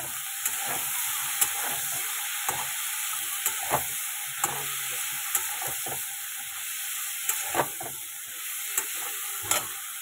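Moringa drumsticks go into a pan of fried bitter gourd and potato, and a steady loud sizzle fills the scene while spoon strokes knock and scrape at regular intervals.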